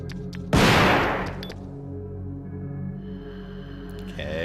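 A single loud, close gunshot rings out in the Resident Evil 2 video game, followed by a long decaying echo over a low droning game ambience.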